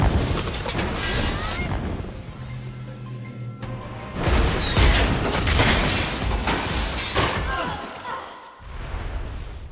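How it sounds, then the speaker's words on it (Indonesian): A tank explodes in an action film scene, with a heavy booming burst and crashing debris rolling over a dense, loud soundtrack of rumbling effects and music, the blast swelling again midway before fading briefly near the end. "Akibat ledakan tank itu,"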